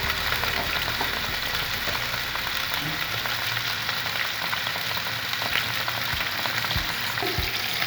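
Chicken pieces frying in oil in a pan while cooking a grilled chicken avocado sandwich, a steady dense sizzle and crackle throughout, close and continuous with no talk.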